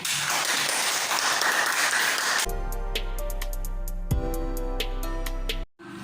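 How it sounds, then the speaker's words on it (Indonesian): Applause for a classroom group in a teaching session: a dense, steady burst of clapping for about two seconds, then it gives way to music. "kita memberikan aplaus pada kelompok 1"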